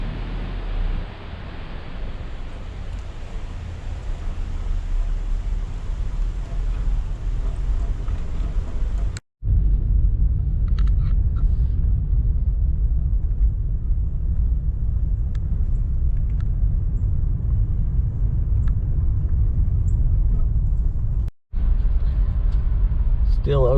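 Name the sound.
vehicle driving down storm-damaged Orchard Hill Road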